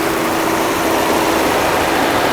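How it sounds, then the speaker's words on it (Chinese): A Mercedes-Benz W126 280SEL engine idles after repair of a faulty fuel distributor, giving a steady, even drone that holds level without surges or misfires, heard alone. "你来看看它现在这个怠速是相当稳定的"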